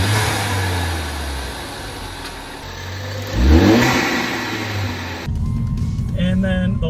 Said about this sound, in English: it did allow some more turbo noise to escape out of the car